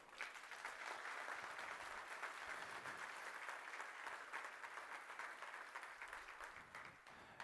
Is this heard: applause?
yes